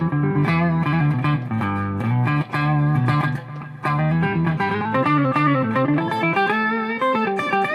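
Electric guitar played through a Boss Katana Artist MkII amp with an octaver effect, giving thick, doubled-down chords and melodic lines that ring continuously with brief gaps between phrases, with no talking.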